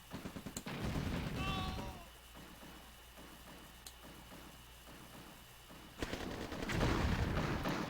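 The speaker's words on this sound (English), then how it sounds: "And some light tanks harassing the power plants of Nico." Tank gunfire in a real-time strategy video game: a quick rattling burst of shots, a quieter stretch of scattered distant battle noise, then another heavy volley, all under game sound effects.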